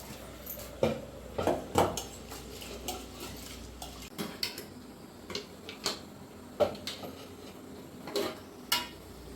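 Metal cookware clanks repeatedly as a lid is set on a pot of simmering country-chicken gravy, sharp knocks and scrapes spaced irregularly over a kitchen background.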